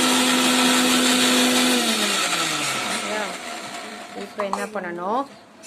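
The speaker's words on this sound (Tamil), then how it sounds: "இப்போ இதை வந்து மிக்சியில் 2 அடி அடிச்சுட்டு ஒன்றில் விட்டு தான் சுற்றணும்" A mixer grinder blending mayonnaise ingredients whirs loudly and steadily, then its pitch drops as it slows, followed by a couple of short bursts of spinning up and down.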